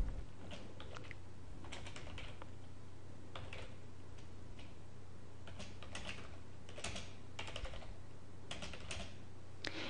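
Steady typing on a computer keyboard during translation work in SDL Trados Studio 2009, with bursts of quick key clicks and pauses over a low constant hum, no talking.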